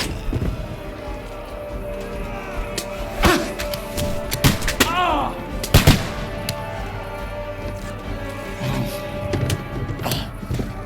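Gunfire and heavy impacts during a siege battle in Kingdom Come: Deliverance 2, several sharp shots and thuds scattered over a busy backdrop of combat noise and shouting voices.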